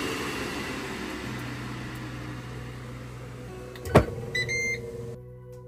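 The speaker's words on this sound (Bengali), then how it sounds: "এই তো মাছটা এয়ার ফ্রায়ারে দিয়ে দিলাম।" An air fryer cooking fish gives a steady, low fan whir, then a sharp click and a few short beeps near the end. No one speaks.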